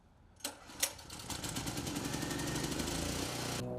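A portable generator engine runs steadily outdoors, a continuous mechanical drone with a fast, even rattle, preceded by a couple of sharp knocks as it starts up.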